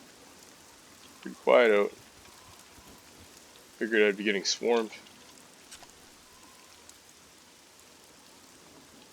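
Steady rain falls in the survival game SCUM, a soft continuous hiss of drops that persists under two short bursts of a man's speech.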